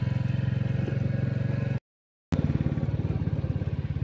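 A Bullet motorcycle ridden along the road from Karjat toward Panvel, its thumping single-cylinder engine loud and steady with a brief cut in the middle before the rhythmic exhaust beat resumes.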